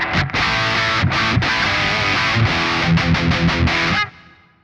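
Heavily distorted electric guitar played through a Kemper amp profile of a Mesa Boogie Rectifier with no delay, loud, dense, sustained chugging chords that stop abruptly, leaving a short decaying tail.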